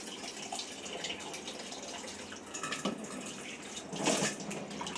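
Fish being washed by hand in water with salt and lime, with steady splashing and sloshing up close, growing louder in a couple of brisk swirls.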